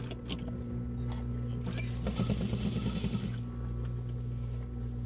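A sewing machine runs steadily while stitching fabric for a pair of basic shorts, a continuous close mechanical whir with a faster rattling burst of stitches in the middle.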